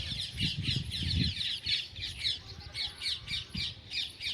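Repeated harsh parrot squawks in a village in the morning, rhythmic and fairly close, calling in quick bursts over a low rumbling background.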